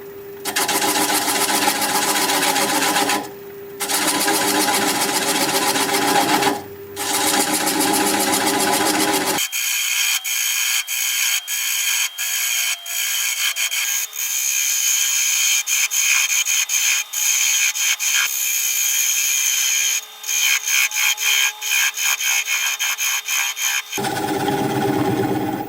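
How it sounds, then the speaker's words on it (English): A wood lathe spins a wooden bowl while a 3/8 inch standard grind bowl gouge removes the tenon, giving loud continuous scraping and hissing cuts with brief pauses and a steady motor whine. "I'm going to take a 3/8 inch standard grind bowl gouge and begin removing that tenon."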